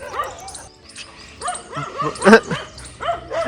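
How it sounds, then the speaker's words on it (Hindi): A pet dog gives a series of close, loud yips and short barks mixed with whimpering whines, irregular bursts over a few seconds. "वो आ भी रहा है कि लड़ लेगा, भौंक देगा।"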